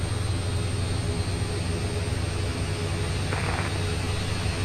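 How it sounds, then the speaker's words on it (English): Embraer jet engines starting up in the MSFS 2024 flight simulator, a steady loud whine and low rumble that holds evenly throughout with no talk. "we'll just start the engines and just hope for the best"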